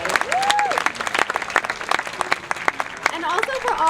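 Dense applause from a school assembly audience, steady clapping throughout with cheering voices and a few whistles rising over it.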